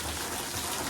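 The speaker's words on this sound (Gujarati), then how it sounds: "વરસાદ આવે છે." Rain falling in a steady, even wash of broadband hiss that fills the short moment alone, with no voices.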